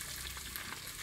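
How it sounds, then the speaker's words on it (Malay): Chicken pieces frying in oil for soy sauce fried chicken at a rainy beach campsite make a quiet, continuous crackling sizzle for about a second, close and even. "So ayam baru tengah goreng."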